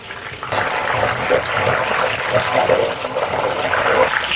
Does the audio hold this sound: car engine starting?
no